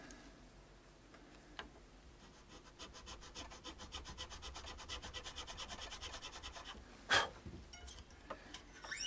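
A file works the nut of a Godin LG P90 electric guitar, giving a steady run of quick, rhythmic rasping strokes close by, with one sharper knock near the end.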